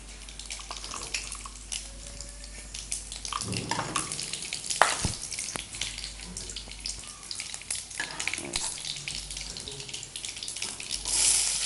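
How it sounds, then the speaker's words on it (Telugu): Tempering spices crackle and sizzle in hot oil for a chana curry, a steady soft frying hiss with scattered pops and a few louder clinks, no speech. "ఆయిల్ కొంచెం వేడయ్యాక పోపు దినుసులు వేసుకోవాలండి"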